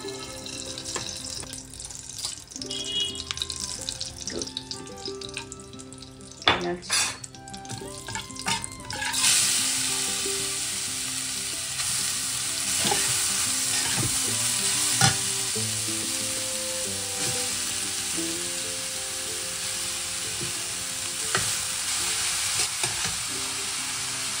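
Ghee sizzles and spits loudly in a kadai while a utensil stirs and scrapes through it, the frying hiss swelling steadily and holding close and continuous, with no voices.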